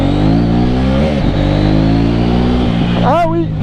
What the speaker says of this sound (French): question sonorité, la mienne, elle fume mon grand. Ouais, vraiment une très belle sonorité.